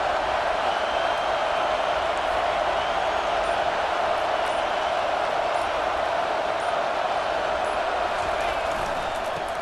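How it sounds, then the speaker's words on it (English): Stadium crowd noise at a college football game in EA Sports College Football 25, a steady dense roar throughout, with commentary voices talking over it. "This crowd trying to show them what it's going to be like all day in this house."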